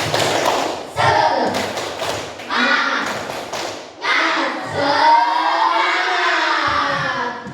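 A group in a coding and AI training session performs a rhythmic clapping cheer, bursts of claps and thumps in patterned sequence, with voices chanting and talking over parts of it.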